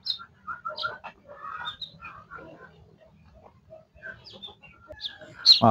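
Newly hatched chicks peep in a cluster of high, thin chirps, scattered and overlapping at close range, fairly soft with a louder burst near the end.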